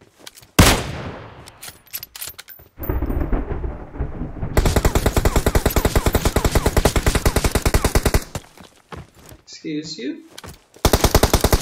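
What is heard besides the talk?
gunshots in PUBG Mobile video game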